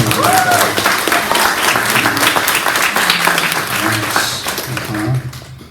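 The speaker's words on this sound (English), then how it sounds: "Let's give them a big round of applause too." Audience applause at a school summer camp closing reading event, a sustained crowd clapping that fades out at the end, with voices and talk mixed in.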